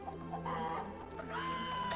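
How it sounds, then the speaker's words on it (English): Chicken clucking from a player character in the Duck Dodgers video game, a steady run of game-voice clucks over continuous game music and effects, loud and close, with no talk. "We can make noises like a real chicken."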